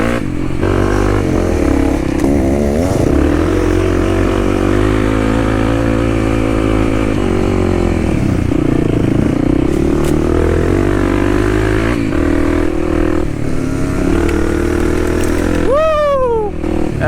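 A Beta 300 two-stroke dirt bike on a trail at Hatfield McCoy, engine loud and close throughout, droning and revving with rising and falling pitch, plus a brief high whine near the end.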